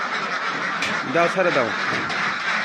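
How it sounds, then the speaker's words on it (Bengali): A flock of ducks quacks in a busy, overlapping chorus as they are let out of their pen. People talk loudly nearby over the birds. "হাঁস ছাড়া দাও, হাঁসগুলো ছেড়ে দাও, হাঁসগুলো বাইরে হয়ে যাক"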